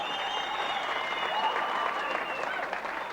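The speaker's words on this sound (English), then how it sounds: "your winner unanimous points from the red corner, Baris Nezif" A crowd at a boxing and kickboxing event applauds after a unanimous points decision, a loud, continuous wash of clapping and cheering with faint voices mixed in.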